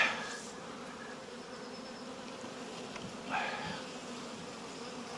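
Bees buzzing continuously nearby during hive splitting, a steady droning hum with a couple of brief louder passes.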